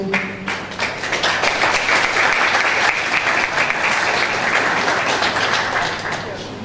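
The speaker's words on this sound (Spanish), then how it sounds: "Fuertes los aplausos." An audience at an academic lecture gives loud, sustained applause, swelling for several seconds before tapering off.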